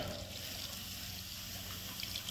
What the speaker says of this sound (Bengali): আমি আলু আর পালং শাক পরিষ্কার করে ধুয়ে নিছি